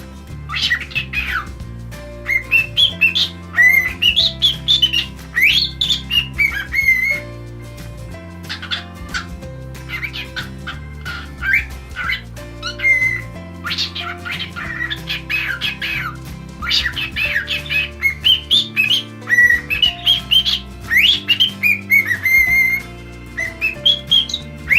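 A pet cockatiel gives a run of bright, rising whistles and short chirps in repeated bursts over steady background music.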